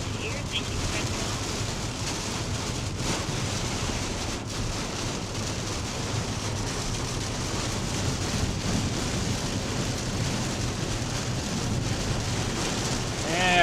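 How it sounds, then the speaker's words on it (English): Heavy rain pours down during a storm chase on a moderate-risk tornado day, a dense, continuous hiss on surfaces with some wind buffeting and occasional voices underneath. "Just rain, people. Not gonna hurt you."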